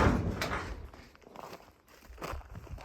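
A door at an abandoned Nevada mine building is pushed open amid scuffing footsteps and knocks, a series of irregular clunks and creaks recorded close up, with no talk.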